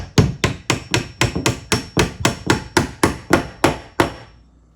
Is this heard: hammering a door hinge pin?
yes